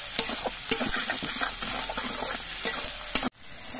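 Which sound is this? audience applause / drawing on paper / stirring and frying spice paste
stirring and frying spice paste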